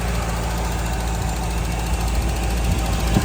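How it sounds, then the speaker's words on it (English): A 1956 Chevrolet 210 with a 283 V8 idles steadily, a close, even low rumble with a faint rhythmic pulse and no voices over it. "engine runs beautifully"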